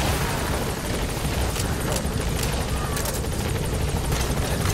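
Support helicopter in Metal Gear Solid V, a steady loud rotor roar filling the whole clip with constant broadband wash and faint rhythmic blade chop, no pauses.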